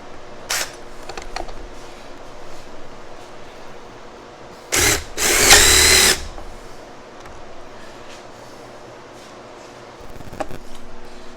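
An impact driver sinks screws into a rustic bench built from salvaged barnwood, giving one short whir and then a louder, longer burst of driving midway through, with quiet stretches around them.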